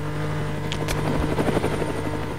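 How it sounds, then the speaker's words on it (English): A steady helicopter drone in Roblox GTA, rotor hum and buzzing, continuous and fairly loud throughout, with faint clicks on top and no talking. "I hear a helicopter."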